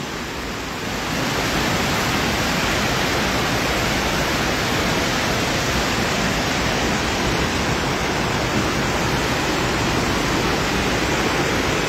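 The flooded Sutlej river rushes past after days of heavy rain, a loud, dense, continuous roar of churning water that holds steady from start to finish with no voices.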